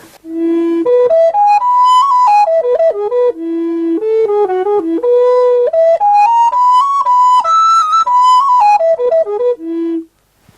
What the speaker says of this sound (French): Si je prends une flûte baroque, on va avoir quelque chose de tout à fait différent.